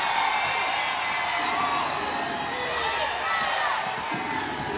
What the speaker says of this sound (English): And this crowd is getting into it.